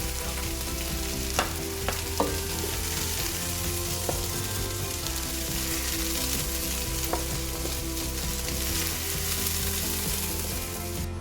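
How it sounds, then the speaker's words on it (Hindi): Mixed vegetables and potatoes frying in hot oil, browning to golden, giving a steady close sizzle for the whole stretch with a few light clinks of a utensil against the pan and no talking. "ये वाली सब्जियां मैंने फ्राई कर ली हैं"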